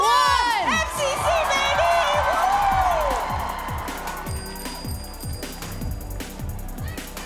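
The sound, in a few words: live event crowd cheering and making noise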